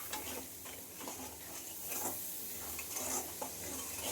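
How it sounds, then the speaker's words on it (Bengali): Spice masala with salt and turmeric cooks in a pan, a soft, fairly faint sizzle with light stirring scrapes rising and falling throughout. "ভালো করে মশলাটা কষিয়ে নেব"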